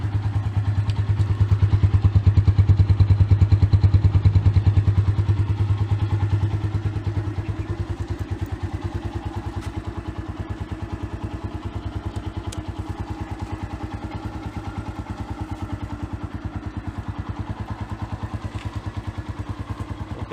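A Honda Phantom 200 motorcycle engine runs up as the throttle is twisted, then the revs fall back slowly to a steady, throbbing idle once it is released, loud and close throughout.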